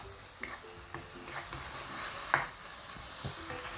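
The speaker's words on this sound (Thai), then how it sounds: "เราจะลวนให้หมูสุกเลยนะคะ" Pork stir-fries in a pan for a seafood instant-noodle salad, with a soft steady sizzle and a series of spatula scrapes and taps at irregular intervals, close but fairly quiet. No one speaks.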